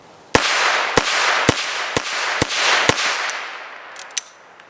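Heritage Rough Rider .22 revolver with a 16-inch barrel fired rapidly, six sharp shots in quick succession at roughly half-second intervals, loud and close, followed by a couple of faint metallic clicks.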